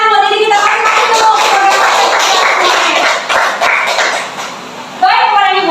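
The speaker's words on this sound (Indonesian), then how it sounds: "Bapak Ibu tepuk tangan buat diri kita masing-masing dulu" Indoor audience at a school teachers' dissemination session claps for themselves, a loud burst of dense applause that thins out, then a short final flurry of claps, with voices mixed in.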